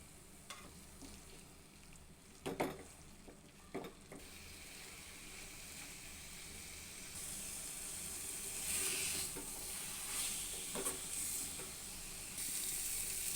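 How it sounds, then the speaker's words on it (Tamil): Grated coconut and boiled white chickpeas sautéed with chilli-powder masala in a pan for a tamarind curry. The frying sizzle is steady and close throughout, with a few sharp scrapes of stirring, and it grows louder and hissier in the second half. "தேங்காய் சேர்த்து நல்லா வதக்கிக்கலாம்"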